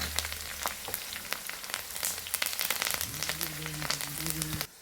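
Bitter gourd pieces frying in hot oil with green chilies and curry leaves, a steady close crackling sizzle with sharp pops throughout, and no one talking.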